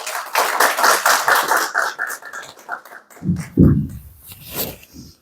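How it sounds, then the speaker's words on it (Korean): Applause welcomes a speaker at an instructors' workshop in Gyeongju, as a burst of clapping fades out within a few seconds and then gives way to a few scattered taps and soft handling noises. "뜨거운 박수로 함께 모시겠습니다."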